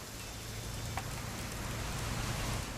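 Rain in the video game What Remains of Edith Finch, a steady, even hiss of falling rain with a low hum beneath, soft and unbroken.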